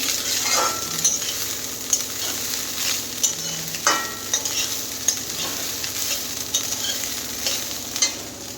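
Cooked rice is stirred and tossed in a hot pan for fried rice. It sizzles steadily, and a spatula scrapes and clacks against the pan at irregular intervals. No voices.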